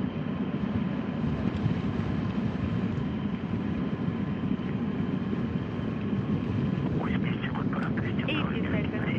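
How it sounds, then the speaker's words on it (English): Rumbling broadband roar of a Soyuz rocket climbing toward orbit after launch, steady and continuous throughout, with a brief crackling burst near the end. "all systems are working well as the Soyuz continues its climb into orbit"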